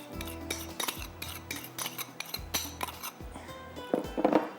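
A spoon clinks and scrapes against a bowl while sweet corn pasta salad is mixed, giving a series of close, irregular metallic taps and stirring rattles with brief pauses between them.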